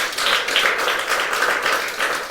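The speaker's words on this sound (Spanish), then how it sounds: "Démosle un fuerte aplauso al Señor." A church congregation breaks into brief, steady applause, a dense wash of clapping filling the room for a couple of seconds with no talk over it.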